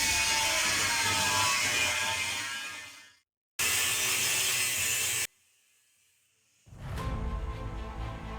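A saw cuts parts for a homemade rocket stove in two long, loud, continuous rasping passes separated by short pauses, then a third cut begins after a quieter gap. It is close up, with no talk.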